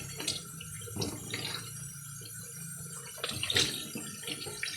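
Tap water runs and splashes while jeans are washed by hand, a close, fairly quiet rush with intermittent louder splashes and sloshing.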